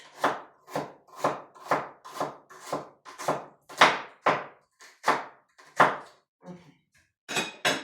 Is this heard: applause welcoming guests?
no